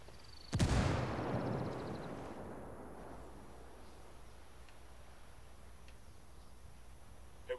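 Frag grenade explosion in the Ghost War mode of a shooter video game: one sudden loud boom followed by a long, fading rumble that settles into quiet background noise, with no talking.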